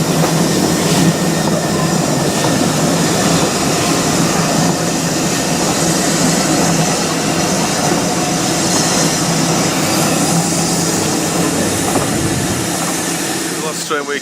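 A heritage train at the Keighley & Worth Valley Railway spring steam gala, its loud, close rumble holding steady for the whole stretch with faint wheel squeal, before easing off at the very end.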